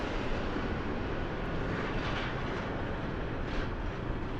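A Southwest airliner takes off from runway 26 right at Las Vegas Harry Reid International Airport, a steady loud jet engine roar with broadband rumble that holds constant throughout, with no voices.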